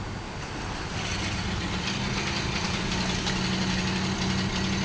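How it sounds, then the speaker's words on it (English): An old Chrysler V8 idles through a single muffler and wide pipe, giving a steady, loud, rumbling exhaust drone with a continuous low throb and no voices. "Sound like one of these old time V8s though"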